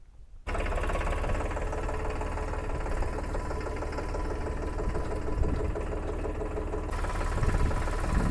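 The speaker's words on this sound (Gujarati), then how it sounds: "તો સૌથી પહેલાં આપણે ઓયણીમાં ચાલુ કરીએ ટ્રેક્ટરને." A Farmtrac Promaxx series tractor engine on a wheat-sowing field catches abruptly after a brief silence, then runs on with a loud, steady, knocking diesel rumble.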